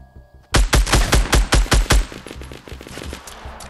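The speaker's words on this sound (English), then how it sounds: "They got a submachine gun and a shotgun." Submachine gun and shotgun fire in Fortnite: a loud, close burst of about nine rapid shots in an even rhythm, then quieter scattered clatter fading out.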